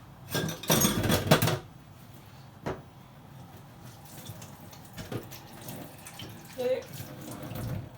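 A kitchen tap runs in bursts as hands are rinsed while a banana semolina cake is being made, with a strong gush early on and quieter splashes afterward.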